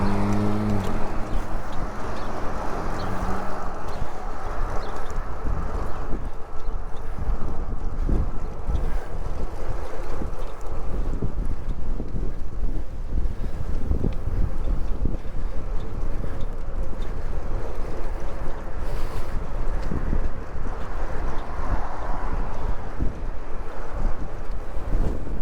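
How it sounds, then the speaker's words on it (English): Wind roars steadily across the microphone during a bike ride, a loud, continuous low buffeting rumble that lasts throughout without a break. "That wind feels good."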